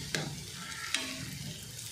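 Spinach patties sizzle and fry in a pan, with two sharp scraping clacks from a spatula as they are flipped, over a steady close frying hiss.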